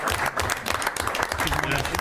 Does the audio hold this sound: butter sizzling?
no